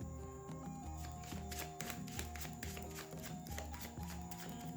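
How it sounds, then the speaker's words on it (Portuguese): Tarot cards being shuffled by hand, a steady run of soft papery riffles and slaps lasting throughout, close and moderately loud with no voice over it. "Enquanto a Índia baralha"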